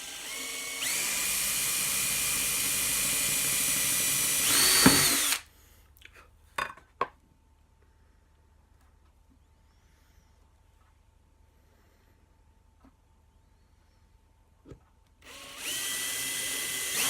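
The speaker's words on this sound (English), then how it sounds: "what I'm going to do is drill here and down here and then connect the two holes with my cut off tool" A power drill bores holes into pipe for steampunk-style lighting, with two loud, sustained whining bursts separated by a quiet pause containing a few small clicks and taps.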